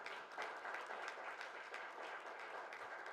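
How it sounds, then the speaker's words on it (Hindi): A crowd applauds steadily to welcome a trainer onto the stage at an anchored event, with dense, continuous clapping that fills the whole stretch. "जोरदार तालियों से हम उनका स्वागत करेंगे"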